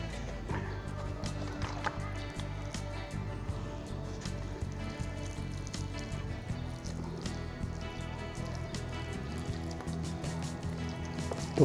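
Water is poured over soil holding tomato seedlings, a soft continuous trickling and splashing that stays faint and steady, with a light background hum.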